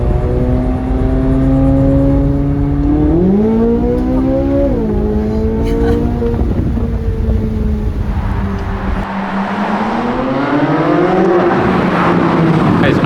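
A sports car downshifts and accelerates hard, its engine note rising and falling in loud harmonic sweeps, with a brief dip before climbing again amid road and wind roar.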